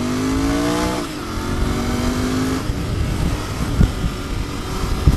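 A Continental GT 650 motorcycle accelerates hard in first gear, its engine note climbing, then shifts into second and pulls up again, loud and close under heavy wind rush.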